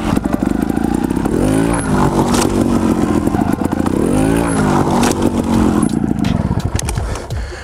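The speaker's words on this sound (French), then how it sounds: "J'essaie toujours de prendre une bonne impulsion, de venir avec un peu de vitesse et de bien pousser ma moto." A trial motorcycle revs hard in repeated bursts as it drives at and hops over wooden planks, loud and close, the engine rising and falling with clattering knocks of tyres on wood.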